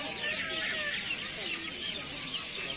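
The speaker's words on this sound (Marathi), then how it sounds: "खूप किलबिल किलबिल ऐकू येते तुम्हाला." A colony of bats hanging upside down in densely packed trees, producing a constant high, chattering twitter that carries faintly from a distance as a steady background din.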